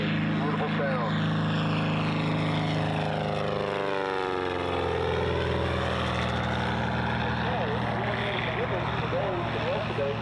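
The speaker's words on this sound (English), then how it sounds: "Listen to this engine as he comes by this river stretch." A propeller plane's engine drones loud and close over a river stretch at an air show, its pitch sweeping down as it roars past, with someone talking over it at times.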